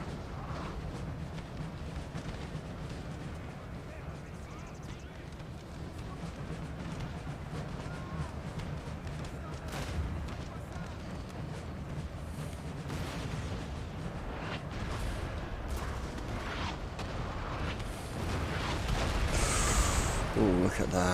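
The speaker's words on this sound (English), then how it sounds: "let's hit these guys with a nice bombarding run of cannonball fire" Cannon artillery bombardment in the video game Napoleon Total War: a dense, continuous roll of booming cannon fire and distant explosions rumbles on throughout, swelling louder near the end, while someone talks over it.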